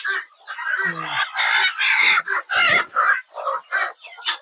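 Chinese-breed hens kept for eggs on a poultry farm cluck and squawk close by in a busy series of short, overlapping calls, with a few brief gaps between bursts.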